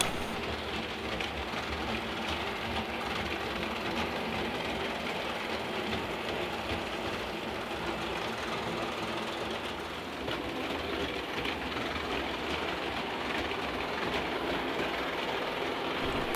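A vintage Märklin 3037 locomotive pulling a train runs laps on Märklin M track on a tabletop layout, giving a steady, close, continuous metallic rolling rattle with faint clicking from the rails and no voices.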